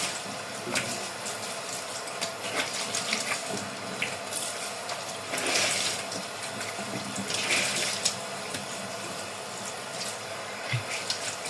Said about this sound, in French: Là, je vais rincer.